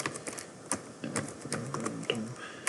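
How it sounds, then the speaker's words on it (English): Quick, uneven clatter of keys on a computer keyboard, close and clear, with irregular bursts of keystrokes and brief pauses, no voices. "I'll just type in"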